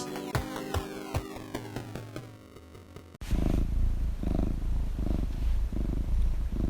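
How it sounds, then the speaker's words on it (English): A cat purring close and steady, a low rhythmic rumble with regular pulses that follows a burst of tonal music and runs alone to the end. "It's a purring cat."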